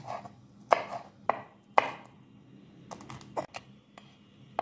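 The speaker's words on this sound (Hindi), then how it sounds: "हरी मिर्चों को बारीक चॉप करते हैं।" A knife chops green chillies finely on a board, sharp close taps in an irregular run of about a dozen strikes with quiet gaps between.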